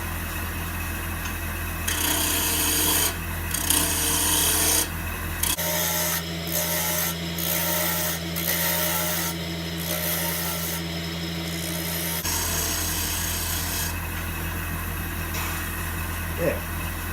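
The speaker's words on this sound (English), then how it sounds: "We've got the lathe back up to 1800 RPM. I'm just going to create a little funnel shape in the top." A wood lathe hums steadily at 1800 RPM as a gouge shapes the spinning wood, with a continuous rasping cut that starts and stops in several passes, loud and close.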